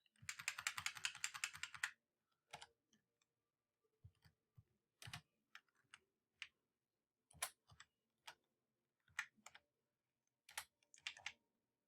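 Fingers type on a computer keyboard, opening with a fast burst of close key presses and then breaking into sparse, irregular single taps and short clusters in a quiet room.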